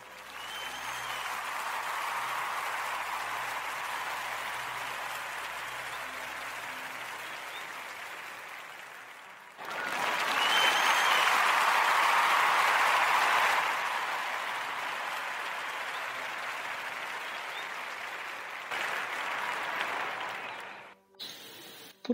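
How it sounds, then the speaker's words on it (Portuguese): An audience claps steadily for about twenty seconds, swelling louder midway before tapering off and stopping abruptly. "Eu quero pedir a toda a gente uma enorme salva de palmas"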